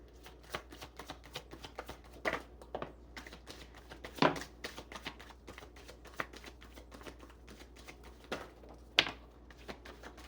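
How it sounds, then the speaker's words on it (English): Tarot cards are shuffled by hand in a quiet room, a run of quick riffling taps and soft slaps with a few sharper clacks scattered through about ten seconds. "I guess we're just shuffling until everything falls out."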